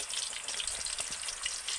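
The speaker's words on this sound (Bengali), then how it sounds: "গ্রেটারের সাহায্যে এইভাবে আলুটাকে কেটে কেটে আমি তেলের মধ্যে ছেড়ে দেব" Grated raw potato frying in hot oil for crisps, a soft, steady hiss and crackle of bubbling oil at close range with small irregular pops.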